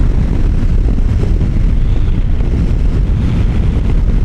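Honda Rebel 1100 motorcycle accelerating, its engine a steady low rumble buried under heavy, continuous wind buffeting on the microphone, loud and unbroken throughout.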